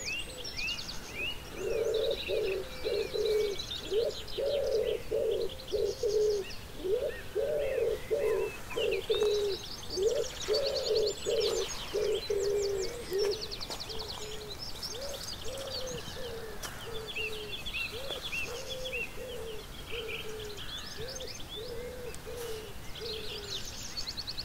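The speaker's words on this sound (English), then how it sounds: "all the birds are up before everybody else, and yeah, you can really hear everything" Morning birdsong over a foggy lake: a run of repeated pigeon- or dove-like coos for the first ten seconds, with bright chirps and tweets from other birds scattered throughout at moderate distance, no voices.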